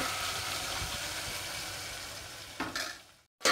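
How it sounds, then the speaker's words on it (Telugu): Onions sizzle steadily in hot oil, close and clear, with a ladle stirring through them; the frying hiss swells, briefly cuts to near silence, then returns loudly. "గరిటతో కలిపి అలా తీసుకోవాలి. ఉల్లిపాయ వేగేంతవరకు."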